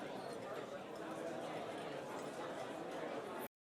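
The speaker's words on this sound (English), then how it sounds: "So I used restaurant noise for that." Busy restaurant ambience used as a beat-making layer: a dense murmur of many indistinct voices with faint clinks, steady throughout, then cutting off abruptly.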